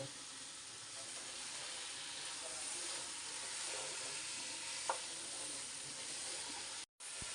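Beef with onions and beef fat frying in a pan, with a little garlic paste going in: a steady broadband sizzle holds throughout, with one brief clink midway and a sudden drop to silence near the end.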